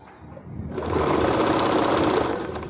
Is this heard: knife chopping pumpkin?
no